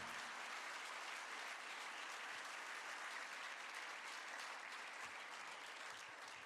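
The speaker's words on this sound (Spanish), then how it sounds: "Dele un aplauso más fuerte al Señor." Sustained applause from a church congregation during a sermon, a dense, even wash of many hands clapping together for the whole stretch, steady and fairly distant.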